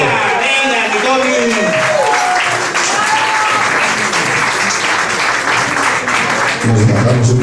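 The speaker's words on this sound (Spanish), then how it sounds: "Claro que sí, venga el aplauso." Loud audience applause and cheering at a comedy show in Mexico City as comedian Tommy Ceballos is welcomed to the stage, a dense crowd clapping throughout with whoops early on and a voice talking over the end.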